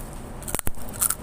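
Crunchy food is bitten and chewed in two or three quick, crisp crunches close to the mic, with no speech.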